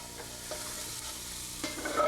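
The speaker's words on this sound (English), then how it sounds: "we are going to stir all this up and then add our pumpkin" Chili peppers, cinnamon, cumin and brown sugar are stirred in a pot with pumpkin about to go in, giving a steady scraping, sizzling rustle with a few louder spoon strokes near the end.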